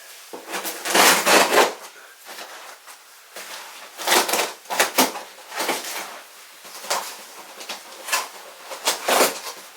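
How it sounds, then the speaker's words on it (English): Scissors crunch through the cardboard and packaging of a boxed Epiphone ES339 guitar in a series of close, uneven bursts of snipping and tearing, with short quiet gaps between cuts. "These scissors will go down through here."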